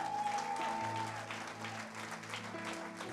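A church congregation claps and cheers for Jesus in steady, sustained applause, moderately loud and crowd-wide, with a sustained musical tone underneath.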